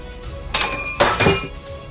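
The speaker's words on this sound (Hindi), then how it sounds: "तुम्हारा मूर्ति तो गिर गया" A statue topples and smashes in a spooky Hindi Halloween ghost story, giving two loud crashing impacts with glassy, shattering breakage about half a second apart, then a brief trailing clatter.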